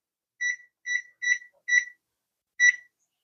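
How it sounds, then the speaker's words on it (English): A kitchen timer is set while vegan stuffed cabbage rolls bake in a Dutch oven, giving five short, bright electronic beeps, four in quick succession and then one after a pause, close against near silence. "Let me set the timer"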